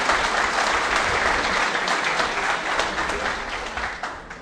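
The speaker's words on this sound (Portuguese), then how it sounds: "mais uma salva de palmas para o Instituto pela iniciativa" An audience at a congress lecture applauds in a dense, steady burst of clapping that fades slightly at the end, with no talk over it.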